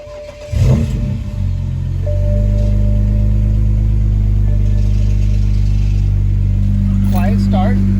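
A BMW 335i with the N54 engine, tuned and running on E40 fuel, cranks and catches, then settles into a loud, steady idle close by, with a brief voice heard during the start.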